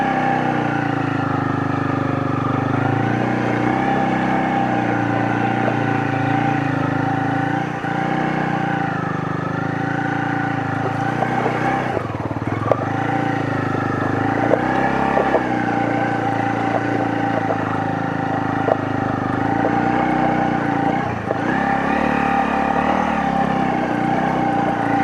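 A Honda CL250 motorcycle on a test ride, its engine droning steadily with rising and falling revs as it accelerates and shifts, alongside steady wind and road rumble, close and continuous with no talking.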